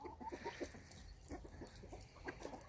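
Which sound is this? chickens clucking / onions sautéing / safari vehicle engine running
chickens clucking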